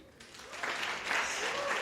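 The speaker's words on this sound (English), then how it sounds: "let's give a round of applause to ayoba, everybody" Applause from an audience at a developer networking event, a steady wash of many hands clapping that swells after a quieter start and stays full and moderately loud to the end.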